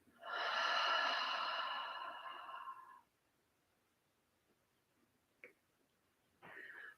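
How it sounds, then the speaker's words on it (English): A long, strong exhale through the nose and mouth closes a restorative chair breathing exercise, loud for about two seconds before fading. Quiet follows, then a short sniff and a fresh breath. "Exhale."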